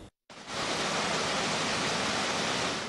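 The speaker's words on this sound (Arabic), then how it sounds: "كاميرا قناة النبا سجلت تدفق موجة السيول التي غمرت الوادي" Flash flood torrent pouring through the valley at Bani Walid, Libya, a dense, steady roar of rushing water filling the whole clip after a brief silent gap at the start, loud and continuous with no voices.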